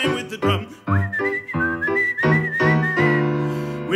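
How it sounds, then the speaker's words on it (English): A whistled melody with a sustained wavering tune rides over a rhythmic musical backing with drum-like beats, part of a staged ensemble piece performed in an opera-house setting. "We whistle and we hum, be time with the drum."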